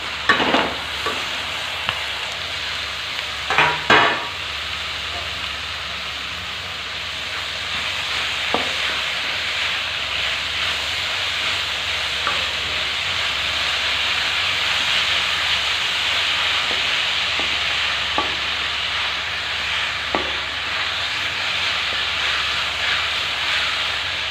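Paneer bhurji roasts in a pan with a steady, hissing sizzle, broken early by a few sharp scraping stirs and later by faint taps, close and even, with no speech over it.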